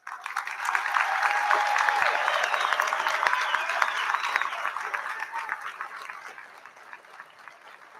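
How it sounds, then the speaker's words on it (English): Sustained applause from a commencement audience at Delaware Military Academy honoring National Honor Society cadets, steady dense clapping that swells early and slowly fades, with a voice or two faintly audible over it. "they are certainly deserving of our applause"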